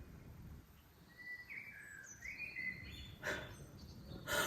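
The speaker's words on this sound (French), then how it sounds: "Vous entendez le bruit des oiseaux là?" Birds singing on a sunny spring morning, with scattered faint chirps and short tweets over a quiet background hiss and a couple of brighter calls near the end.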